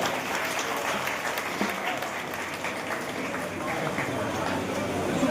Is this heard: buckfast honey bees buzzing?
no